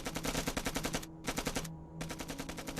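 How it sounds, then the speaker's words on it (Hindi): Rapid bursts of automatic gunfire from two guns firing from the south side of a firefight, loud, close and continuous apart from two short pauses. "ये जो फायरिंग है ये उनके बंदूक की है।"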